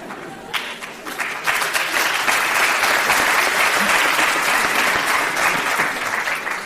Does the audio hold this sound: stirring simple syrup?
no